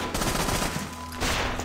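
A sniper rifle shot from the game Assassin's Creed Rogue booms loudly. The broad, dense blast fills the short clip, and a second burst follows near the end.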